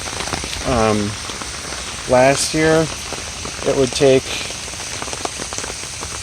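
Heavy rain pours down around a garage drainage system, a dense, steady hiss running through the whole stretch while someone talks over it in short bursts.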